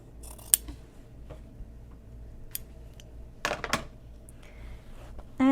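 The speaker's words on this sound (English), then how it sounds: "And then I'll definitely need to trim the top of this seam." Scissors snip along a fabric seam on a messenger bag, a few crisp, separate cuts spaced out over a quiet background, close and fairly soft.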